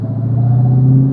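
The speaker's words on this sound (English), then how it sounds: "The car sounds amazing." Dodge Challenger Demon engine giving a short, deep, steady rumble, loud and close with no talk.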